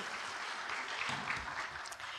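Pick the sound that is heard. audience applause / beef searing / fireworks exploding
audience applause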